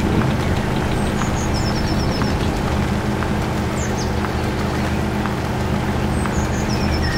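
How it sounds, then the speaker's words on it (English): A truck in the MudRunner video game spins donuts in a car park, its engine a continuous loud rumble with tyre and gear whines, and faint chirps overhead. "This is the uh, car park we're doing donuts in."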